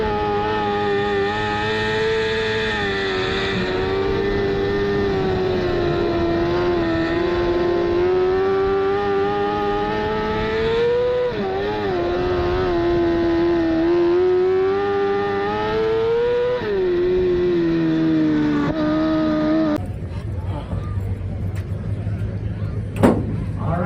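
Race car engines drone loudly and steadily at a dirt track at Deming Speedway, a sustained high engine tone that rises and falls with speed before cutting off near the end, leaving background noise and announcer talk.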